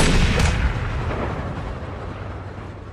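Gunshot in a James Bond film, a loud booming report at the start that decays into a long rumbling tail.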